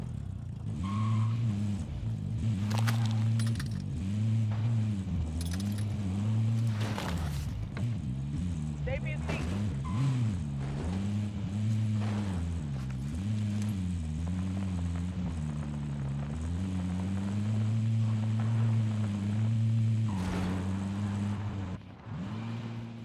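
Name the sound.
car driving in Warzone video game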